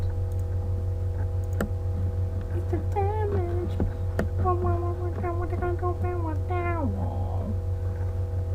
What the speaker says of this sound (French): Désolé si vous entendez mon chat miauler.